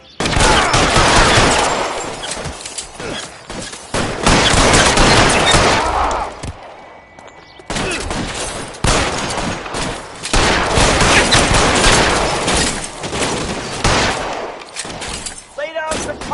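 Sustained covering gunfire in an L.A. Noire shootout: loud, dense bursts of rapid shots fill most of the stretch, broken by a brief lull midway before firing resumes and continues to the end.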